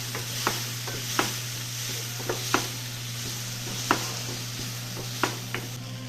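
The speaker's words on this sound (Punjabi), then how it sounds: "ਪਿਆਜ਼ ਦੀ ਪੇਸਟ ਪਾਉਣ ਤੋਂ ਬਾਅਦ ਅਦਰਕ ਵਾਲਾ ਜਿਹੜਾ ਆਪਾਂ ਪੇਸਟ ਬਣਾਇਆ ਸੀਗਾ ਉਹ ਵੀ ਆਪਾਂ ਪਾ ਦਿੰਦੇ ਹਾਂ" Ginger paste added to sizzling onion paste for matar paneer, stirred with steady sizzle under sharp, close spoon scrapes every second or so against a low, constant hum, with no talking.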